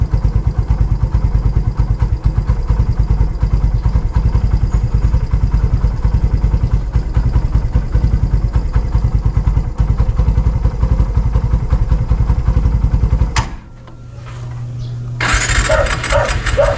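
A tricycle motorcycle engine warms up, its loud, close, steady rattling idle running for about thirteen seconds before it abruptly cuts off, leaving a low hum and then a brief burst of noise.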